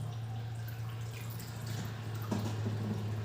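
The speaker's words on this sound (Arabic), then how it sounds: "بصح واش دركا نزيدو شويه تاع ماء" Water being added to chicken wings baking in an oven dish, heard as soft drips and a brief splash over a steady low hum, close and fairly quiet.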